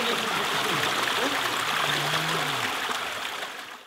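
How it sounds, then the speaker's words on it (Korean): Mountain stream water flows steadily beside a hillside trail on Soyosan, Dongducheon, near the entrance to Jajaeam temple, a continuous near rushing and trickling that fills the whole clip and softens slightly at the end. "옆쪽에 흐르는 계곡 소리로 마음속까지 깨끗해지는 이 기분"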